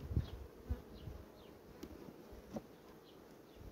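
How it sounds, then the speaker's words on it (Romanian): A large honeybee colony in a fifteen-frame hive, a soft low buzzing hum under a few faint knocks and bumps from nearby handling, quiet and without talking. "Este stup pe 15 rame, deci este o colonie mare, mare, mare."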